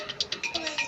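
A mobile phone rings indoors in a home with a TV on, a quick series of bright repeating electronic tones, fairly close and alone for under a second.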